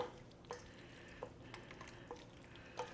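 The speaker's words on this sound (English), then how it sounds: "Now we're going to give this a lovely mix." Hot potatoes and eggs for a Spanish tortilla are stirred in a bowl, giving a soft wet mixing sound with several light clinks of a utensil against the bowl at an uneven rhythm, close and quiet.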